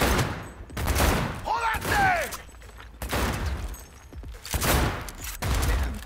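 Gunfire in the video game Cyberpunk 2077 comes in rapid bursts and volleys across the whole stretch, loud and close, with a voice talking over part of it.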